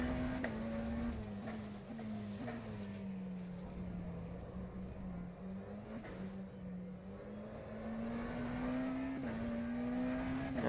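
A McLaren Senna GTR engine in the rFactor 2 racing game revs and holds a droning pitch that rises and falls with throttle lifts and shifts. It runs continuously, fairly loud and close, with no talk.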